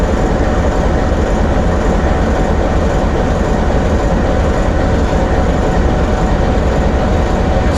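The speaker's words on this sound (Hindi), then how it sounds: "वाम एक्सप्रेस आ रही है ZCU20 के साथ" The Awam Express arrives behind a ZCU20 locomotive, a loud, close, continuous rumble of rolling wagons and wheels on rail with no pauses and no voices.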